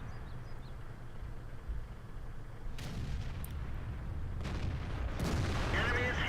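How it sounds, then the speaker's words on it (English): The FV215b tank's main gun fires in World of Tanks: a couple of distant, muffled booms rise over a steady low engine rumble, with a faint voice now and then. "I'll take another shot, miss with that one."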